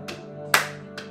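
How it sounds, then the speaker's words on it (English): Three sharp hand claps during a kundalini yoga exercise, the middle one loudest and the outer two softer, over a steady low background hum. "we're just going to clap"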